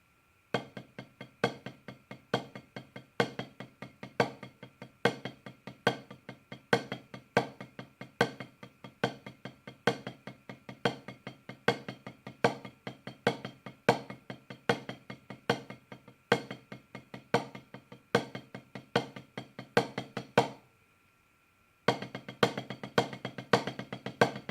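Steady drum paradiddle displacement exercise, sharp close stick strokes in a continuous even rhythm with regular accents, pausing briefly near the end before resuming.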